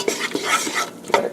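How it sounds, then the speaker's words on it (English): Onions cooking in a pan are stirred with a utensil, making quick scraping and clinking strokes over a light sizzle, close and brief with no talk. "Oh, I love the smell of onions cooking."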